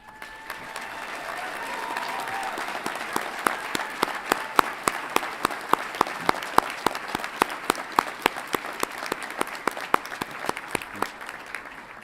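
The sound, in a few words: audience applause at commencement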